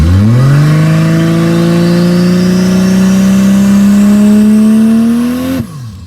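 A car engine, boosted with nitrous turned off, revs loud and close, climbing steadily in pitch for several seconds as the torque converter slips, then cuts off abruptly.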